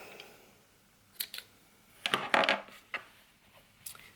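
Scissors snip punch needle yarn in a few quick, crisp cuts spread over a few seconds, close by against a quiet background with no talking.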